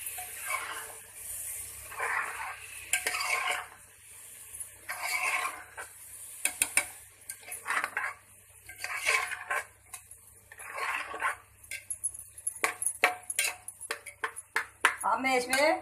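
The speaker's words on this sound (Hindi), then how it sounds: "अब इसको मैं अच्छी तरह मिक्स कर लूंगी।" Rice, soya and chana pulao stirred in a pot gives repeated bursts of metal spoon scraping and clinking against the pot, with irregular clatter building faster toward the end.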